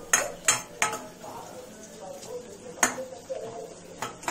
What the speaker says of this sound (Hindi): सब सब्जियां नमक के साथ मिक्स हो रहा है अच्छी तरह